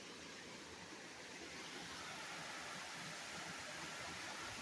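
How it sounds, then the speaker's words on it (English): Water rushes over the Bone Creek spillway in a steady, dense roar that holds unchanged throughout, like a nearby waterfall. "I can hear the spillway"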